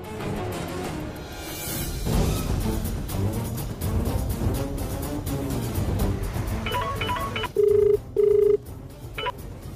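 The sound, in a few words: telephone ringing or dialing during a call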